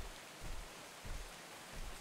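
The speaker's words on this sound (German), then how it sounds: "Regen, endlich." Steady rain falls in the video game ARK, a faint, continuous hiss with soft low swells rising and falling underneath, and no voices.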